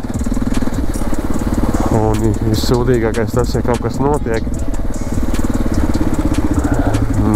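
A motorcycle rides a forest gravel track in Latvia, its engine a steady close rumble over crunching ground, with someone talking over it.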